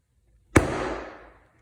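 A bare palm strikes a less-lethal pepperball in one sharp, loud impact that rings briefly and fades within about a second.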